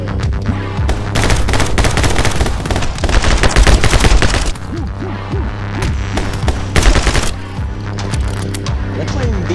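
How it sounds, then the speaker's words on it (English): Loud, sustained SMG bursts from the video game My Friend Pedro rattle in dense rapid volleys over a steady low hum, pausing briefly midway and then returning in shorter bursts. "going to switch to the SMGs"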